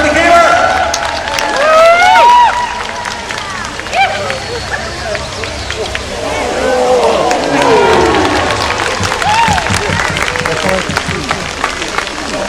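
Highland games audience cheering and clapping for a 120-pound, 20-foot caber toss, a loud sustained mix of applause, shouts and whoops, with voices throughout.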